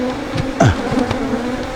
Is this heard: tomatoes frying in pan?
no